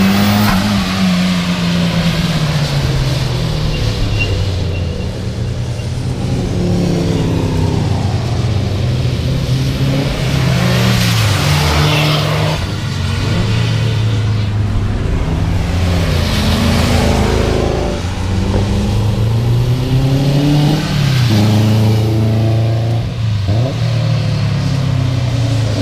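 Car accelerating hard on the Motorland Suzuka circuit, the engine revving loudly and climbing through repeated gear changes over about twenty-five seconds, close and continuous.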